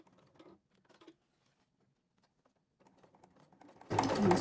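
A sewing machine stitches binding onto a fabric Kindle holder: faint, stuttering bursts of stitching, then a loud, close run of the machine at the very end.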